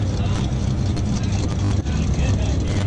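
Loud, steady engine roar from a Dodge Demon gas supercar, a dense low rumble holding for about three seconds with a voice talking over it.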